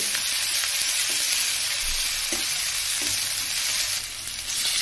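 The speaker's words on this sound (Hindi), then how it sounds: "अभी बढ़िया से फ्राई होंगे" Garlic and ginger paste frying in a pan for a home paneer curry, a steady close sizzle with faint crackles and stirring scrapes throughout.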